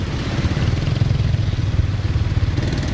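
Motorcycle engine running through flood water on a swamped bridge road in Davao City, a steady, close, loud rumble with a clattering pulse and no voices.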